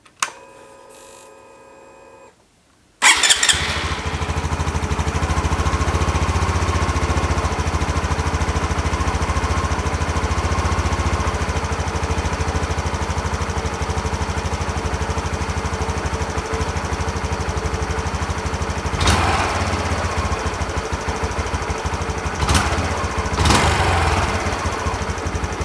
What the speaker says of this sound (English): I'm going to start the bike up and I'm going to adjust it and see where it hits that point where it raises the idle.